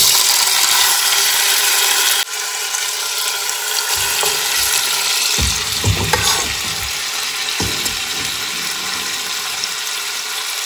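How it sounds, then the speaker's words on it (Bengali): Marinated chicken fries in ghee with a loud, dense, continuous sizzle, joined partway through by scraping and stirring noises as the pieces are turned in the pan. "এখন এই ঘি দিয়ে দিলাম এর মধ্যেই এখন এই ম্যারিনেট করা চিকেনটা দিয়ে কষাতে হবে"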